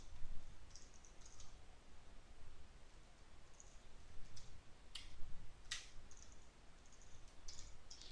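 Python code being typed on a computer keyboard: quiet, irregular key clicks and taps in short bursts, with a few sharper clacks, heard close up and alone against a low background hum.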